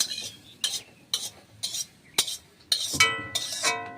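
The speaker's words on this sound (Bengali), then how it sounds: "সকালবেলায় মুড়ি খাওয়ার জন্য আলু ভাজা আর কুমড়ো ভাজা করে নিচ্ছি" Potatoes and pumpkin being fried in a wok: a utensil scrapes and clinks against the metal in a steady series of strokes, then a louder burst of sizzle and clatter near the end, close and without talk.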